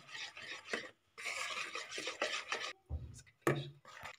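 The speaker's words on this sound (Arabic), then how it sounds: "البنات من بعد ما خلطنا الجينواز ديالنا" A spoon or spatula mixes génoise sponge cake batter with flour for an orange layer cake, giving close, quiet scraping and stirring strokes in uneven bursts with short pauses and a couple of knocks.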